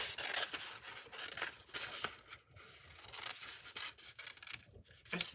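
Scissors cutting around a paper craft piece, giving close, crisp snips and rasping paper slides in uneven bursts, with brief pauses between cuts.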